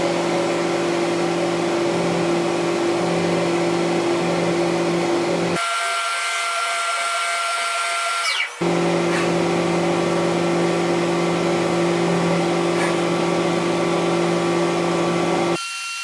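A CNC machine running a program cycle, with a loud steady mechanical hum and tonal whine that drops briefly partway through before resuming, close and continuous.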